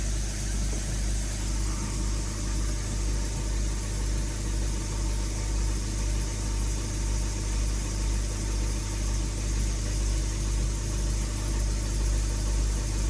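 An Audi, VW or Skoda car on a test drive after an auxiliary water pump replacement, a steady low engine drone with road rumble and vibration, unchanging throughout with no voices.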